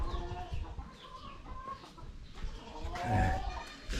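Chickens clucking softly inside a farm outbuilding being renovated, a steady murmur of low clucks with some rustling, moderately distant and continuous throughout.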